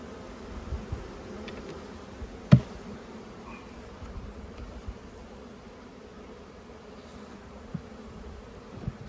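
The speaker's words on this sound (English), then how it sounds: "These bees will need to be smoked down a bit." Honey bees droning steadily around an open hive, a soft, continuous low hum with a few brief knocks and bumps, fairly faint and without talk.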